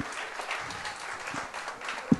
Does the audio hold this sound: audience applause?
yes